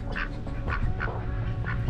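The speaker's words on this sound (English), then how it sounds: "Look at this old duck here." An old duck with a dead eye quacks four times in a steady series at a farm, the quacks close and clear above a constant low rumble.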